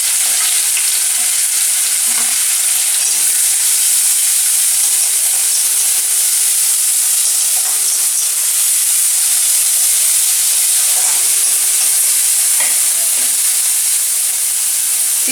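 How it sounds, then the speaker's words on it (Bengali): Onion, garlic and ginger pastes sizzle in hot mustard oil in a pan, a dense, constant frying hiss that stays loud throughout, with occasional soft stirring scrapes. "এবার আমি এতে একে একে দিয়ে দিলাম পেঁয়াজ বাটা, রসুন বাটা"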